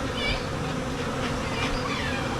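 Dense, loud buzzing from a swarm of bees around a hive box during the removal of a wild colony from school property, a continuous close droning that holds steady throughout.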